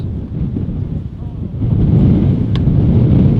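Strong wind at Manchester Airport buffets the microphone in a low, rumbling roar that swells louder partway through, with no talk over it.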